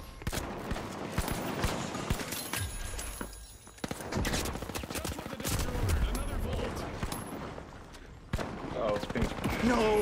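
Gunfire in The Finals, including revolver shots, cracking in rapid bursts and scattered single reports through most of the stretch, fairly close, with players talking over the shooting.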